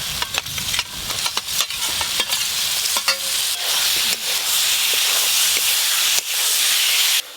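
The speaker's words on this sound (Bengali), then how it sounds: "মশলা খুব ভালো করে কষে নিয়েছি, ভেজে রাখা আলুগুলো দিয়ে দেবো।" Fried potatoes go into sizzling spice masala for aloo dum, with loud, close hissing and steam and repeated scraping clatters of a spatula stirring in the pan, and no talking.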